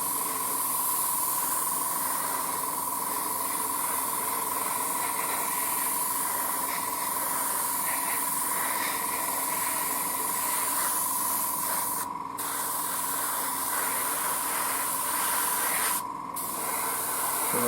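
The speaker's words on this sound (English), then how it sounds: "So let's grab again on my airbrush," An airbrush sprays paint onto a Takom Type 69-II 1:35 scale model tank. It makes a steady, close hiss that runs almost without a break, dipping only for two brief moments near the end.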